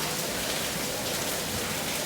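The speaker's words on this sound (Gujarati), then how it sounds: "આટલો વધારે વરસાદ પડે છે" Heavy monsoon rain pours down in Anand district, Gujarat, a dense, unbroken hiss of falling water that stays constant throughout, with no voices.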